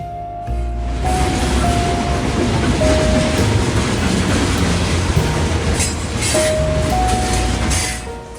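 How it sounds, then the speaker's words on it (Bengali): An express train running from Bardhaman toward Durgapur rumbles loudly along the tracks, wheels clattering steadily, with occasional high metallic squeals riding over the heavy roar. "একখানি দ্রুতগামী ট্রেন ছুটে চলেছে বর্ধমান থেকে দুর্গাপুরের দিকে"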